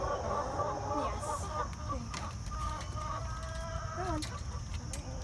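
A broody hen in a coop makes low, drawn-out clucks and grumbling purrs mixed with other fowl calls, fairly faint beneath a steady background hum and hiss.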